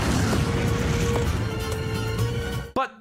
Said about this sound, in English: Yeah, the explosions are good.